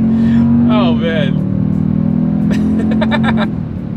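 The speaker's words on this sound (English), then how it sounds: "That is a heck of an acceleration for a full-size pickup truck" A 2024 Toyota Tundra twin-turbo V6 full-size pickup accelerating hard down a straightaway, its engine a loud, steady drone that builds under excited talk.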